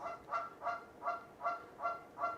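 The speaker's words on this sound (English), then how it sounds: "I have a Canadian goose." Six evenly spaced honks from a female pet Canada goose ring out one after another, close and clear with nothing else underneath.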